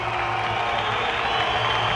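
A kickboxing event crowd applauds steadily and loudly, a dense wash of clapping with faint cheering mixed in throughout.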